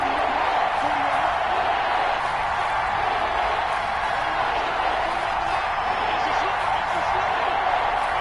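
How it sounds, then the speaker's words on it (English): Stadium crowd noise from the Madden 21 football video game, a dense, steady roar rising toward a big third down, continuous and fairly loud throughout the stretch. "The crowd getting into it as we come up on a big third down."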